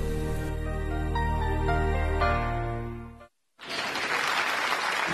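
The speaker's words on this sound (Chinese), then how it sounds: "掌声有请这一对" On a TV relationship show, a music sting cuts out after a brief silence, and a burst of full studio-audience applause follows, steady and loud.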